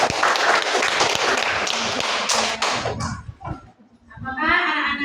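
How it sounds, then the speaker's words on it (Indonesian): Schoolchildren in a classroom clapping for a group, a loud burst of many small hands for about three seconds that fades out, followed by a teacher speaking. "tepuk tangan buat kelompok"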